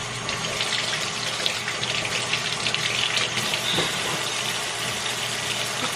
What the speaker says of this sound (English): always make sure you rinse your fruits